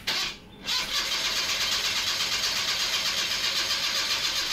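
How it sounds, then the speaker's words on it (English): A Toyota Vitz engine cranking with the injectors disconnected, a steady, rapid mechanical churning that runs continuously and close after a brief lull at the start. "crank the engine"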